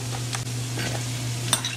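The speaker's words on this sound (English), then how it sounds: "Mix it everything together like this." A spoon stirs yogurt with salt in a bowl, a close, soft scraping swirl with a couple of sharper clinks against the bowl's side, over a steady low hum.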